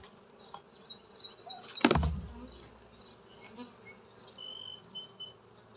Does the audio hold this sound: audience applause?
no